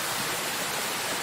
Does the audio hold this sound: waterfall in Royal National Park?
yes